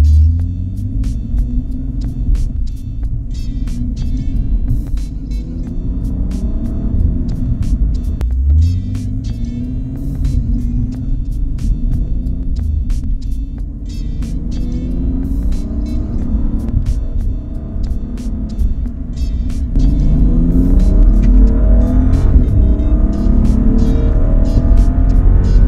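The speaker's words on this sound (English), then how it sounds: "I'm gonna switch to sport right now to just give a little round to see the car warming up." Car engine driving in sport mode after a BootMod3 transmission flash, a loud continuous rumbling drone that rises and falls through gear changes and grows louder near the end, close and without talk.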